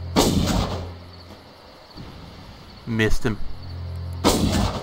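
Mortar fire from the video game Far Cry: a sharp boom opens, a cluster of rapid blasts follows near the middle, and another heavy boom closes. Someone speaks briefly between the explosions.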